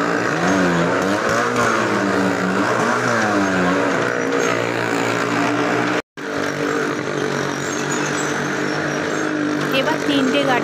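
Motorcycle engines drone loudly and continuously during a circus stunt show at a Rash festival, with the pitch rising and falling as the bikes circle. One abrupt cut interrupts the sound.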